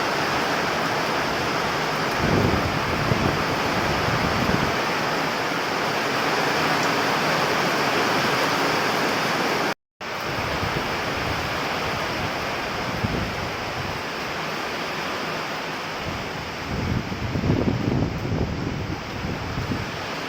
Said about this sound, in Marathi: कोकणातला पाऊस आणि खूप मोठा पाऊस अचानकपणे आला